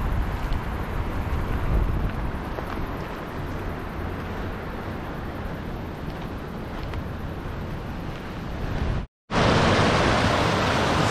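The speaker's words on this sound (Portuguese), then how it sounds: "Maravilha de cachoeiras" Water pours over a dam spillway, forming waterfalls at Poço Verde in Itapipoca, Ceará, Brazil. A steady, dense rushing roar runs close and loud, broken only by a brief cut near the end.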